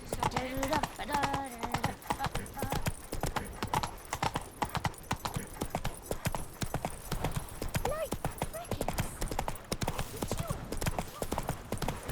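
Roach the horse's hooves clip-clop steadily in The Witcher 3 around White Orchard, a continuous rhythmic trot heard under game music, with a voice talking at points.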